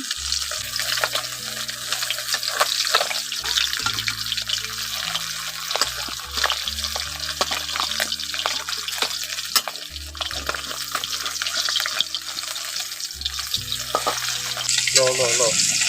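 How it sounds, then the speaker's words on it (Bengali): Fish frying in a pan and being turned over, giving a loud continuous sizzle with spattering crackles and occasional utensil clinks, while background music plays along. "এখন মাছের এক পাশ ভাজা হয়ে গেছে, আমি এখন উল্টে পাল্টে দিচ্ছি।"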